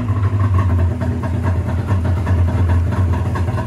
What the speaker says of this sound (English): It sounds like a triple motorcycle. It is wild. See, it's got that low idle.